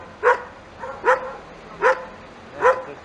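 Dogs at a street protest barking after being hit by tear gas, four loud sharp barks at an even pace, close by and clear of talk.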